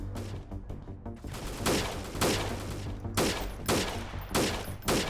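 Rapid bursts of gunfire from a fast-firing weapon in the combat game Freeman Guerrilla Warfare, several volleys in quick succession with dense cracking shots, loud and continuous with short gaps between bursts.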